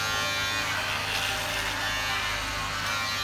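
Electric clippers buzz steadily and up close while shaving a pitbull dog, a continuous loud hum with no talk over it.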